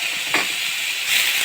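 A loud, continuous sizzle of chopped onions sautéing in hot oil, a bright hiss with a couple of swells as the pan is stirred.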